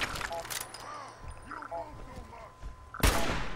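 Gunfire in the video game Fallout 4, with sharp broadband bursts of shots early on and again near the end over a busy battle din, while a player talks excitedly throughout.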